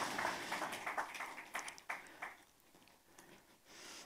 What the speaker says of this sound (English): Give them a hand clap as they go.